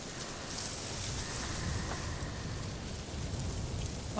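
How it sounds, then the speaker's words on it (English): Heavy rain pours steadily in A Plague Tale: Requiem, a dense, even hiss of drops on surfaces that stays loud and continuous throughout, with no voices over it. "The rain is so loud."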